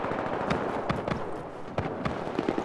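Gunfire aimed at a dropship in the co-op shooter Syndicate, heard as scattered sharp shots and short bursts at an irregular pace over a steady hum of battle noise.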